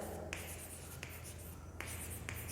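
Chalk or marker strokes on a board during a chemistry lecture, scratchy bursts repeating at a steady pace against a low background hum, with no talking.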